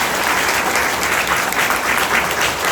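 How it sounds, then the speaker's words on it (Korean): A church congregation gives loud, sustained applause for a priest after a confirmation catechism lecture, the clapping dense and even throughout with no talking over it. "우리 이영건 신부님께 박수 한번 다드리고"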